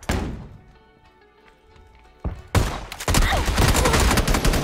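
Gunfire in the battle royale game PUBG on Erangel: a loud thump, then a dense, close burst of overlapping shots that continues to the end.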